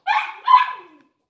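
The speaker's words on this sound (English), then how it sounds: "my pets are barking" Two quick barks from pet dogs indoors, high-pitched and yappy, the second following close after the first and trailing off into a brief whine, fairly loud and alone.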